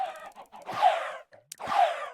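Chickens in a video game livestream give two short clucking calls about a second apart, fairly close and clear, with no talking over them.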